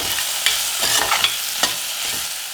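A close, busy sizzle of frying in a pan as salt and turmeric are stirred in for a fenugreek and egg diet dish, with a few sharper scrapes of the spoon across the bottom. The clip is short, with no voices.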